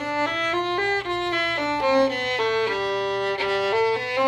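Bowed violin runs through a jazz dominant scale, a major scale with a flatted seventh, as a clean sequence of about fifteen separate sustained notes at a steady pace, played solo and up close.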